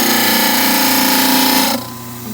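A dental model trimmer grinds a quick angled cut on the back corner of a dental model, a loud, steady high whine with gritty abrasion that drops abruptly to a lower hum near the end.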